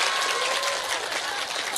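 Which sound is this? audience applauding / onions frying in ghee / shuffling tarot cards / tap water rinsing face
audience applauding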